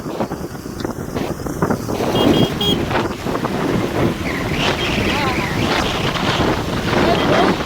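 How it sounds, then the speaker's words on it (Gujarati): Vehicles driving through a flooded road in the rain send up rushing sprays of water in a continuous, close wash, with wind buffeting the microphone. Faint voices sit underneath. "ગાડીવાળા પાણી બધા ઉડાડતા જાય."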